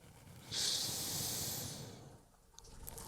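A person lying on the floor during a slow core exercise takes one long, audible breath in, a close, airy hiss lasting about a second and a half that fades away, with no talking.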